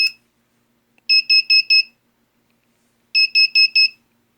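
A KOCOM KCV-376 video intercom boots after its power switch is flipped: a short click, then two close, loud bursts of four rapid electronic beeps each, separated by a pause, with nothing else heard.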